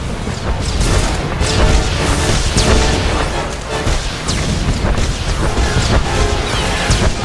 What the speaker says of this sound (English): here the droid is launching another missile barrage